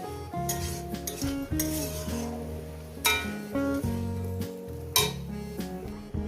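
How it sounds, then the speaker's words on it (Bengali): A utensil scrapes and clinks against a cooking pan while chopped eggplant is stirred, repeated close metallic knocks and scraping strokes in an irregular rhythm with a faint sizzle underneath. "এটাকে আমি একটু নাড়াচাড়া করছি"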